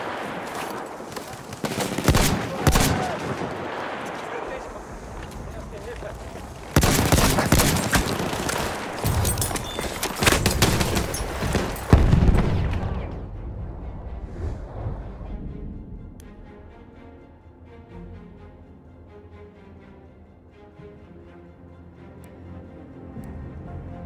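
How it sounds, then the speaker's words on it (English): Heavy enemy gunfire and explosions in a Battlefield 1 match: dense volleys of rifle and machine-gun shots with booming blasts, loud and continuous at first, then thinning to scattered distant fire. "That's an enemy shot."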